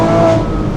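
A Porsche Boxster S engine revs loud and close, a steady, strong drone holding through the short burst without any talk over it.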